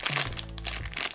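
A plastic blind bag holding a Trolls surprise toy crinkles and crackles as it is handled and torn open, a brief, close burst of rustling with a low hum beneath.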